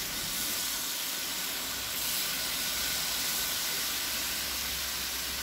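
Chicken reshmi kababs cooking in a pan over a medium-low flame give off a steady, even hissing sizzle, close and constant throughout, cutting off abruptly at the end.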